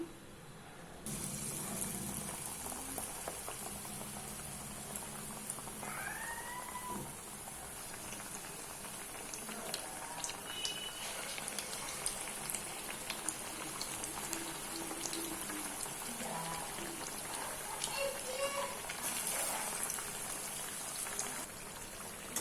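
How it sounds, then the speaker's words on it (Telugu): Batter-coated raw banana bajji deep-frying in hot oil, a continuous bubbling crackle with scattered pops and splashes over a long stretch, close and fairly soft, with no one speaking. "ఇప్పుడు ఒక్కొక్క అరటికాయ ముక్కని ఇందులో వేసుకుని పిండిలో వేసుకుని ఆయిల్లో వేసేసుకుందాం"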